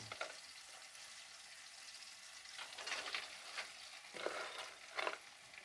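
Sprouts are tossed with tomato and onion in a hot pan, a faint continuous sizzle broken by several soft scraping stirs, quiet and close with no talking.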